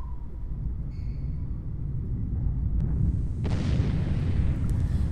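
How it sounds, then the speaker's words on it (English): Cinder cone volcano eruption effect from the Tinybop Earth app: a steady low rumble that swells into a louder broadband burst around the middle, then a sustained roaring hiss continuing to the end, with no talking. "This is a cinder cone volcano."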